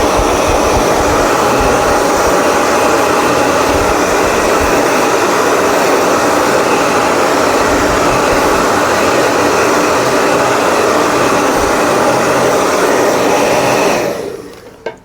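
A dryer blows a steady, loud rush of air over freshly printed silver ink on an umbrella, holding an even roar for about fourteen seconds before cutting off abruptly.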